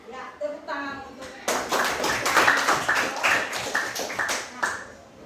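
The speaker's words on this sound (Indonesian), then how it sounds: "Ya, tepuk tangan untuk." Classroom of students clapping together, starting after a brief spoken phrase and continuing as a lively rhythmic patter of many hands, close and bright.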